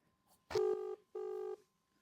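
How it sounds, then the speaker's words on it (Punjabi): A ringback tone on a phone line: two steady buzzing tones with a short gap between them, clear and close. "ਹੁਣ ਕਾਲ ਲਾਉਣਾ ਤੇ ਦੇਖਦੇ ਆ ਫੋਨ ਚੱਕਦਾ ਜਾਂ ਨਹੀਂ"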